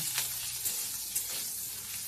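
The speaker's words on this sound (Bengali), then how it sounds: "লবণটাকে দিয়েও ভালো করে আমি ভেজে নেব" Carrot and beetroot sizzle and fry with salt in a pan, a steady close hiss with faint stirring scrapes throughout.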